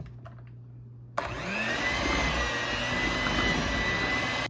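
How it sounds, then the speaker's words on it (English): An electric mixer switches on abruptly and runs loud and steady, beating three large eggs into cheesecake batter with a continuous close whirring drone after a quiet moment. "Let's mix those 3 eggs in."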